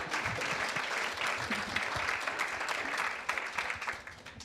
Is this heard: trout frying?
no